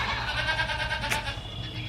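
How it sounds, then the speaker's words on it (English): Baby goats being weaned bleat in quick repeated, overlapping calls nearby, loud and continuous over farm background noise. "All the baby goats are getting big."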